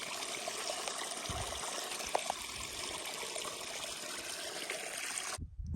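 A small stream flowing across a trail on the Pacific Crest Trail, a steady close trickle and babble running without a break, then cutting off abruptly near the end.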